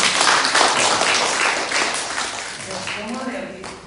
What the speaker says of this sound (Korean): 우리 박수 한번 하십시다.